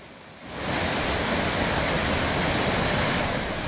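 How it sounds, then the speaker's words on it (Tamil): Thirparappu waterfall pouring forcefully, a loud, steady roar of gushing water that swells in within the first half second and holds dense and continuous throughout. "திருப்பரப்பு அருவியில் நீர் ஆக்ரோஷமாக பாய்ந்து செல்கிறது"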